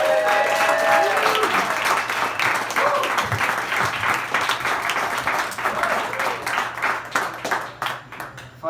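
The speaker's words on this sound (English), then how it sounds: "Please welcome with a thunderous round of applause" Comedy show crowd applauding and cheering as a comedian is welcomed onstage, loud sustained clapping that slowly thins toward the end.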